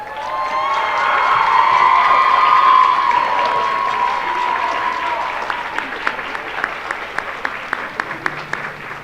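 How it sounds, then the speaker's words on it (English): A high school concert audience applauds and cheers for standing All-State band musicians, a loud swell of clapping with whoops and shouts that peaks early, then thins into scattered, sharper individual claps near the end. "let's give these All-Staters a huge round of applause"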